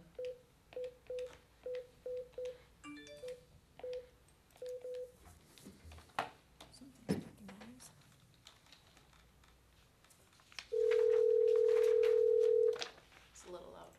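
A telephone dial tone comes through a meeting's sound system as a steady held tone lasting about two seconds. Before it, a rapid series of short keypad dialing beeps and keyboard-like clicks is heard, with faint room noise around them.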